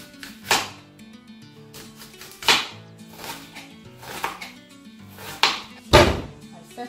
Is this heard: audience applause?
no